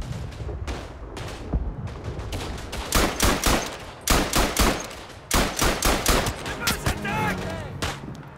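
Machine gun firing in the World War I shooter Verdun, with repeated rapid bursts of loud, sharp automatic fire in a steady rhythm, some shorter single shots between, brief talk underneath.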